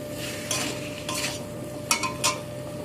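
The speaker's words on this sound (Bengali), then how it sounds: "অল্প একটু নাড়াচাড়া করে নেব, কেননা এতে সরষে দিয়ে আছে।" A mustard-based drumstick curry stirred in a pan, a spoon scraping and knocking against the metal in a few distinct bursts over a steady background hum.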